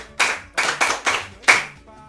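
Hands clap in five sharp, close, evenly spaced bursts at a Yoruba podcast gathering, loud and distinct, with a short quiet pause at the end.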